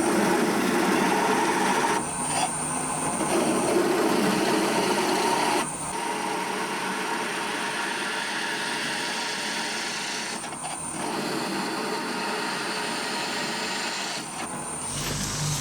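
A drill bores holes in a clock base with a continuous, loud grinding whine that runs almost without pause, with a few brief dips and stops along the way.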